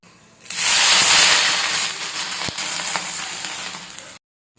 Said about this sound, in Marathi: एकदा का तवा कडकडीत गरम झाला की त्यावर तेल पाण्याचं मिश्रण शिंपडायचं